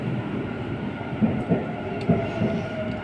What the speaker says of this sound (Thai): เมื่อกี้รถไฟ รถไฟเราลอดใต้ดินเลยนะ